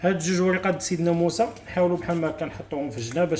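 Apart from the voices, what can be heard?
No everyday noise stands out behind the speech.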